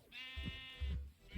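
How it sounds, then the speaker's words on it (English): Minecraft cows in a modded Stoneblock 2 world let out a short, bleating moo, close and fairly loud, followed by a lower grunt, with no talk over it. "Those cows are so loud."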